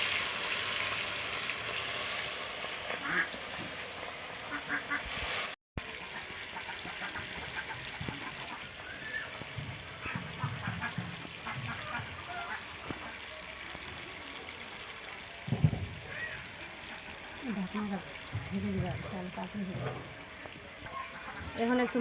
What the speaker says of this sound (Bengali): একে একে করে মাছগুলোকে আমি ছেড়ে দিব তেলের মধ্যে।